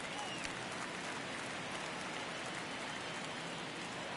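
Stadium crowd roar in MLB The Show 23 during a Mets vs Phillies baseball game, with a one-run ninth inning underway: a steady, dense wash of crowd noise holding at an even level throughout, with no talking.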